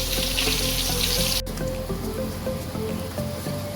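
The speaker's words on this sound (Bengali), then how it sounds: "এবার আমি আলুটা ভেজে নেব, একটু লাল লাল করে আলুটা ভেজে নেব" Potatoes fry in hot oil with a steady close sizzle and hiss, sometimes with small pops, and a brief clatter partway through.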